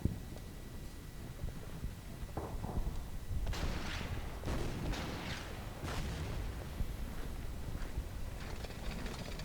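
Artillery fire in the Blitzkrieg strategy game, several scattered booming shots at moderate distance over a steady low battlefield rumble, with no talk.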